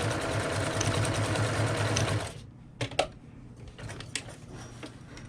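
Domestic sewing machine stitching a straight seam along the edge of a tote bag fabric, a steady loud whirring run for about two seconds, then stopping into quieter handling clicks and rustles.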